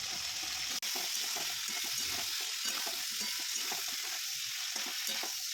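Chopped potato and cauliflower fry in hot mustard oil with a constant faint sizzling hiss, while a spatula stirs in soft intermittent scrapes; one sharp click sounds early.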